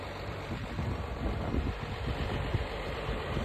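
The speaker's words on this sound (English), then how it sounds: "This is the loader tractor that's up at the pasture." A loader tractor's engine idles steadily out in a hay pasture, a low continuous rumble with wind buffeting the microphone throughout.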